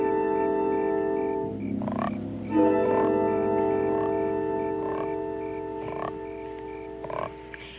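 A frog croaks in a loud, steady drone of harmonic tones close by, repeating with short rhythmic pulses and no voices.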